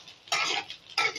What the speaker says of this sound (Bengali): আমার আলু ফুলকপিটা প্রায় ভাজা হয়ে এসেছে